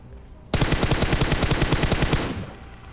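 Rapid burst of automatic gunfire in a battle royale video game, about two seconds of evenly spaced, loud shots that start abruptly and stop cleanly, with no talk over them.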